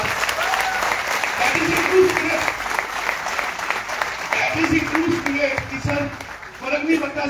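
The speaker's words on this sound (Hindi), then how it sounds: "नीचे बैठे हुए तालियां बजाइए जोरदार।" Strong applause from an audience seated in a business networking meeting hall, steady dense clapping lasting throughout with a few voices and a hummed tone faintly audible underneath.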